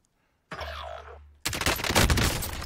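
Loud, close gunfire in the battle-royale video game Warzone, a sharp shotgun-style blast followed by a dense, sustained burst of shots that fills the whole clip, with no talking.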